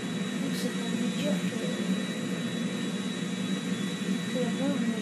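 An airplane engine in GTA 5 drones at full speed with a steady, even roar, and someone talks over it throughout.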